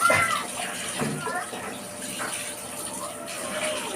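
Running water splashes into a bath, a steady close gurgle and patter with people talking intermittently over it.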